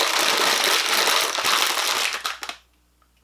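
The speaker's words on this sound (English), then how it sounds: "probably that's rustling these bags" Loud, continuous crinkling and crushing of plastic snack bags close to the mic for over two seconds, tapering into a few last crackles before silence.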